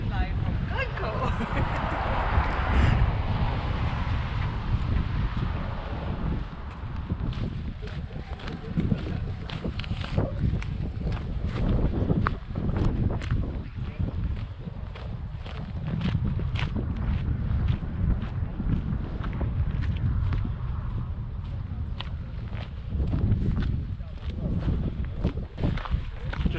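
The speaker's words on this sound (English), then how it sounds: "There's a good wind today, so it's keeping everything cool." Wind gusts through Glencoe glen in the Scottish Highlands, buffeting the microphone as a continuous low rumble, with footsteps crunching underneath while a person talks over it.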